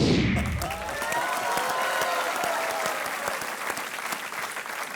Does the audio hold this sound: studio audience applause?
yes